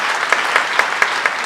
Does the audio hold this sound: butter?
no